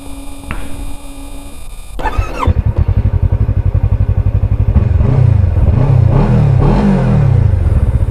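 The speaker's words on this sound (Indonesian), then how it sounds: "Untuk suara mesin ya, oke aku nyalain ya mesinnya ya." A motorcycle engine is started after a long 1,300 km touring trip, catching with a clatter and then idling steadily and loudly up close, with a few rising revs.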